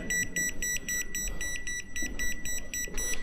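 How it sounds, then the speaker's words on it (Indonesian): EMF meter alarm at an abandoned COVID-19 hospital in Surabaya, beeping fast and steadily with a bright electronic tone over faint low rumbling background, no talking. "Ini bunyi terus alarmnya."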